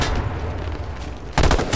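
Gunfire in the H1Z1 battle royale game, including an M40 rifle, with loud shots and a burst of sharp reports in the final half-second over a steady background rumble.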